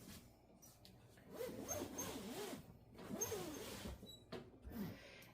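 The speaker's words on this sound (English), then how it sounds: "I'm gonna zip it up." A zipper is pulled closed along a boxed cushion dog bed cover in several long, scratchy zipping strokes at close range, with short pauses between pulls and no voices.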